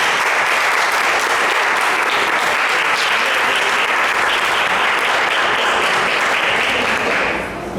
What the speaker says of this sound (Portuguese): Quem pode aplaudir a palavra de Deus?